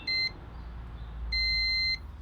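A multimeter on continuity test sounds two clean electronic beeps, a short one and then a longer one, while checking a switch on a MK1 Renault Trafic, with quiet surroundings between them.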